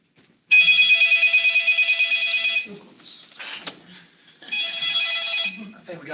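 A telephone rings inside a courtroom, a loud electronic trill that plays for about two seconds, pauses, then rings again, with brief speech and room noise in the gap between rings.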